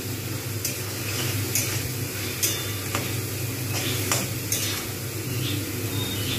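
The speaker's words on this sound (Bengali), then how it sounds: "ভালো করে কষিয়ে নেব মশলাটা।" Spice masala with oil cooks down in a pan for a chicken and potato curry, a continuous close sizzle broken by repeated spatula scrapes and light clicks against the pan.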